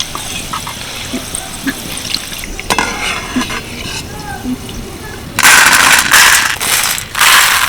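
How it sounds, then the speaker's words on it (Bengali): Two chillies fry in hot oil while making fried chana dal; a low muffled background first, then a loud crackling sizzle bursts in, close and intense, with brief pauses. "লঙ্কা দুটো ভালো করে ভেজে নিলাম"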